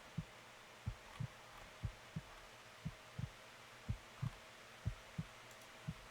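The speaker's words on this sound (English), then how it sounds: "can I feel the heartbeat? You can, coming from deep within." A heartbeat thumps from deep inside a plasticky creature in a fun house, faint, low and muffled, with paired beats repeating at a steady, roughly once-per-second pace.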